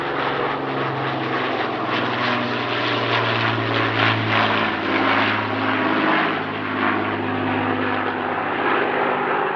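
Avro Lancaster bomber flying at an air show, its piston-engined propellers giving a loud, steady droning roar that holds for the whole stretch with slight swells in pitch.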